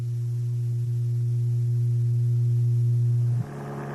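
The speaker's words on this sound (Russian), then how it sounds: "Этот звук имеет частоту 120 Гц, в 2 раза больше предыдущего." A steady, loud 120 Hz electronic tone, the kind of low hum a grinding machine gives off, holds unchanged for about three and a half seconds before cutting off abruptly.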